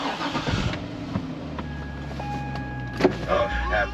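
A Chevrolet Corvette Grand Sport engine with 137,000 miles cranks and catches, then settles into a steady idle hum, close by, with a faint whine and clicks around it.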